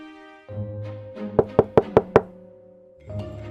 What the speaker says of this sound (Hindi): तभी दरवाजे पर दस्तक होती है।